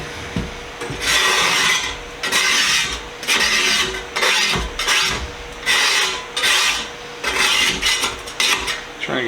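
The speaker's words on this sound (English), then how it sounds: "Try and get most of the rust off there." Rust being scraped off a retro Cosco metal stool in loud, rasping strokes that repeat in a steady rhythm with brief pauses between passes, close to the microphone and without talk.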